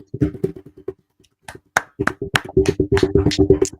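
Hands clap rapidly in quick uneven bursts as an improvised drum roll, close and dry, stopping briefly before resuming with mixed vocal whoops and syllables layered over the patter.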